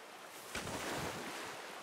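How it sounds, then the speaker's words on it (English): Water sloshing as a character wades through a river in Red Dead Redemption 2, a single swishing surge of splashing that rises suddenly and trails off into a soft, steady rush. "The deer won't hear me going through the river."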